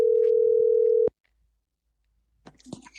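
A steady telephone dial tone hums for about a second while a call is placed, then cuts off abruptly, followed by silence and a few faint rustling sounds.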